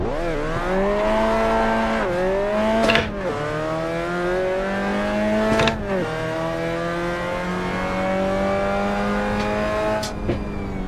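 Mazda MX-5 Cup race car in the video game Assetto Corsa at Portland, engine revving up through gears in repeated rising sweeps with brief shift dips, loud and continuous, with faint tire noise.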